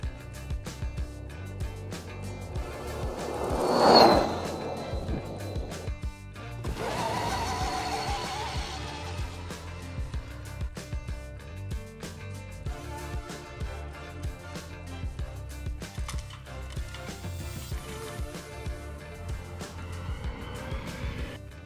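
A Polaris 4x4 UTV converted to full electric drive runs on an icy road, giving a rising whine with tyre hiss that swells twice early on, then settles into a steady, quieter rolling hum.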